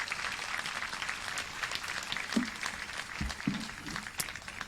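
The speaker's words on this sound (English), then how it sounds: "I just want to make sure that we give him a nice round of applause." Crowd at a middle school promotion ceremony gives a moderate round of applause, scattered claps sounding from a distance in a large space with a few louder nearby thumps and bumps.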